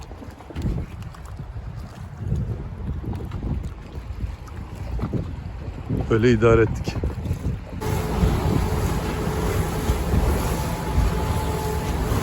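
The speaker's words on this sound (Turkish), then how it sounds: "Biraz rüzgarlı dalgalı hava." Wind buffets the microphone aboard a boat in choppy water off Salih Island, Bodrum, a steady rushing roar with water noise, while someone speaks briefly.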